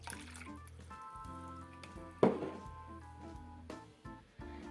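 Water is poured into a mixing bowl for pampushky dough, giving a soft splash and a few drips over quiet background music.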